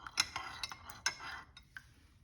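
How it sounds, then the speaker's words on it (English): A spoon stirs tea in a cup, giving a few light, bright metallic clinks and scrapes spaced unevenly, close and quiet with no talking. "Just gonna stir this a little bit"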